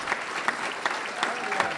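Audience applause at a live Smart Cities Challenge event, honoring the organizing team: a steady, dense wash of many hands clapping with small surges, fairly close and continuous.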